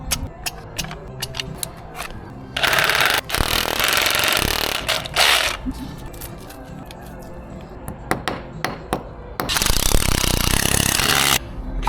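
Two long, loud bursts of a power drill whirring into material while fitting blinds, separated by clattering and tapping of tools nearby.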